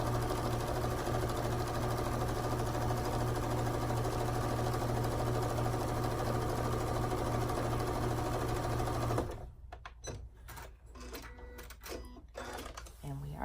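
Sewing machine stitching quilt backing together, a fast, steady mechanical whir running loud and continuous before stopping abruptly, followed by a few scattered clicks and handling noises.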